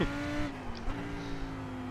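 A V10 race car engine screams at sustained high revs around Silverstone, loud and continuous, with a slight pitch dip as it passes.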